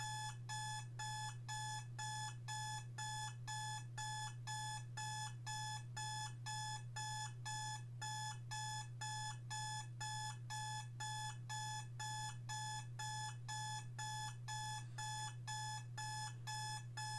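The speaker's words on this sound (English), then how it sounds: "I try to throw the beep out the window, but it seems to be coming from inside a locked drawer." An alarm beeps from inside a locked drawer in an escape room, a steady, evenly spaced run of bright electronic beeps over a constant low hum, with no voices.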